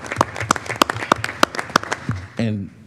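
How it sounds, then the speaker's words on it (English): A handful of people at a Board of Education meeting clap for a team and staff, a sparse, slow run of distinct close claps, followed by a voice speaking near the end. "I personally hope the board will join me in just really giving you a round of applause, you and your team."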